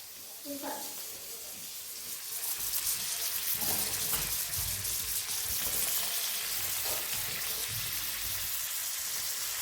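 Crushed ginger, garlic and shallots sauté in a pan with a steady broadband sizzle that swells after a couple of seconds and holds, plus occasional stirring scrapes and faint voices in the background.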